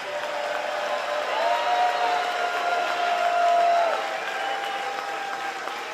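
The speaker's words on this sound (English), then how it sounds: "we hope you will join me in thanking him and Senator McConnell with a warm round of applause" Crowd applause at the Fancy Farm picnic in Kentucky, heard as a sustained wash of clapping that swells in the middle and holds steady for several seconds, with a faint tonal hum underneath.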